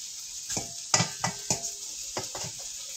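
A spoon scrapes and clinks through soup mix in a green bean casserole dish, a handful of separate stirring strokes and taps spaced unevenly, close and fairly clear with no talk.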